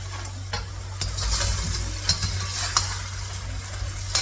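Chicken and vegetables being stirred in a pan over full flame for kalamkari chicken: a steady sizzle and frying hiss with repeated scraping clicks of a spoon against the pan, close and continuous with no talk.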